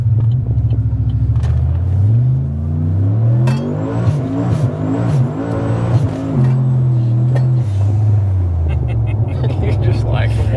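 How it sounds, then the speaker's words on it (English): Turbocharged 650 whp Holden Maloo engine revving, a deep rumbling idle that swells through several throttle blips with rising and falling pitch, loud and close, with people talking over it. "Gotta love that turbo. It does sound good"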